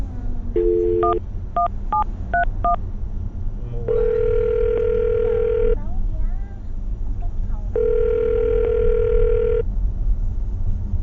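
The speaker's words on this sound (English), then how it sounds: "I'm going to dial his phone number right now." A telephone handset sounds a quick string of keypad dialing tones, then two long, steady ringback tones separated by a pause. All of it sits over a low, constant studio hum.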